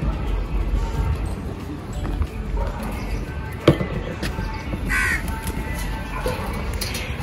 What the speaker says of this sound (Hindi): ये जो कोए है ना ये बहुत चालाक है।